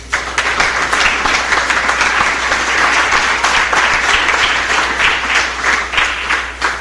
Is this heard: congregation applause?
yes